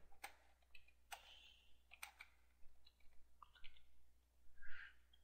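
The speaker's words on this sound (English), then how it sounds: "I start typing." Keys on a computer keyboard are typed in short, irregular bursts of soft clicks, faint and close against a quiet steady hum.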